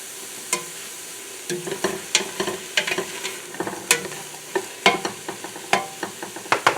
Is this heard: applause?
no